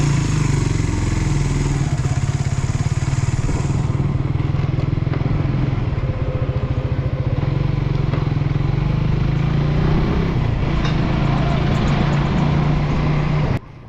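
A motorcycle rides along the road with a full tank, its engine droning steadily and loud up close with wind rush, holding an even roar throughout before cutting off abruptly at the end.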